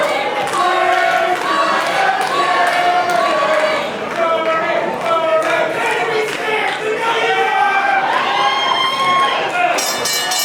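A live wrestling crowd at a Central States Wrestling championship event cheers and shouts in a steady, dense roar that fills the whole stretch, with whistles and raised voices on top.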